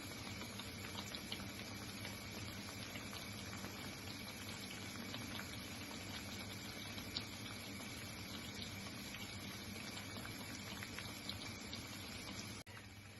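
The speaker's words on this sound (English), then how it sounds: "Do the deep fat frying." Steady crackling sizzle of plantain deep frying in hot oil, continuous and fairly quiet throughout, with no talking.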